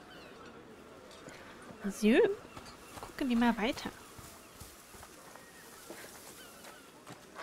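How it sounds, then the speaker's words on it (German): Goose honking in A Plague Tale: Requiem at a medieval market, two loud gliding honks a second apart over quiet game ambience, with a voice talking briefly afterward. "Da haben wir noch eine Gans."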